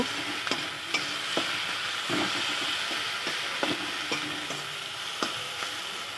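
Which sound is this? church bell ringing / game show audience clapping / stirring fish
stirring fish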